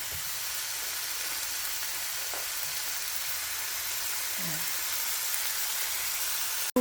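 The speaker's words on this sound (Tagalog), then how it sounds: "onions, sauteing onions. And then later on, I will add the pork giniling." Onions sauté in hot oil in a frying pan for Filipino pancit palabok, giving a steady, close, bright sizzle throughout with a few faint clinks underneath.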